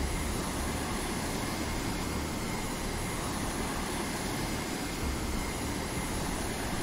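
A drone aircraft drones steadily in a naval combat video game, its broad, even engine noise holding loud and continuous throughout with no pauses or talk.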